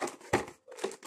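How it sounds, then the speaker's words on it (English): A plastic bag being handled gives two short, close crinkly rustles separated by a brief pause. "Plastic bag."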